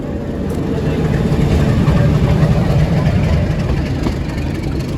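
A train locomotive sits idling during an engine change on the Junagadh to Amreli line. It gives a steady, close, low diesel rumble that holds evenly throughout with no break.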